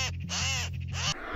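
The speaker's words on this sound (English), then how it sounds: "The magpie kept screaming, knowing there would be no tomorrow." Magpie under attack by a hawk, giving loud, harsh, continuous screaming calls up close, the harsh cry swelling and dipping across its length with no gaps.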